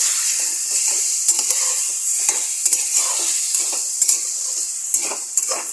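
Ginger garlic paste being stirred into frying gongura chicken in a pan: a steady bright sizzle with repeated scraping and tapping strokes of the spoon, close and alone.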